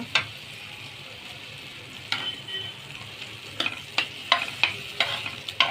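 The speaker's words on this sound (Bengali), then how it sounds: "এখন এটার সাথে মিক্স করে দিলাম" Breakfast food with egg, chilli and onion is mixed in a frying pan over a low sizzle. After a quiet start, a spatula gives sharp, irregular scrapes and taps that come faster toward the end.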